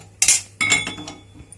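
Two quick metallic clinks of a small tempering ladle striking a pan, the second ringing briefly before fading.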